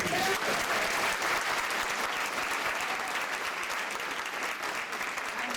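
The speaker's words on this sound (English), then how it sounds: "Give him a round of applause." A crowd applauds loudly and continuously, dense clapping that holds steady and tapers only slightly toward the end.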